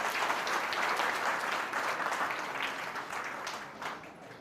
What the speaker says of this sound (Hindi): इसके लिए एक बार जोरदार तालियां होंगे।